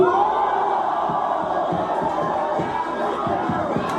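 A rap battle crowd roars and cheers loudly after a punchline, a dense sustained wall of shouting voices with rhythmic pulses beneath.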